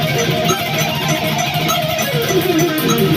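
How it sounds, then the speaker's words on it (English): Sloppy, rushed guitar playing without a metronome, a jumbled steady stream of notes each cut short, played alone and fairly loud. "It just sounds like a really jumbled mess of notes,"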